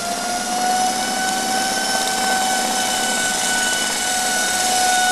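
A 3 HP DC motor driven by a simple PWM MOSFET circuit runs at full speed, a loud, steady whine with sustained high tones and no change throughout.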